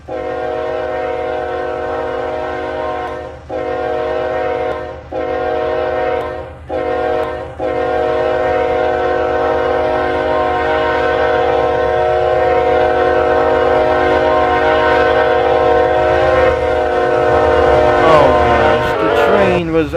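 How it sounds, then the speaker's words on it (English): A train in the Roblox RO-Scale Chicagoland railway game blows a loud, sustained multi-tone horn with a few brief breaks early on, then rumbles steadily past up close. "The train is gonna be arrive at any moment as well"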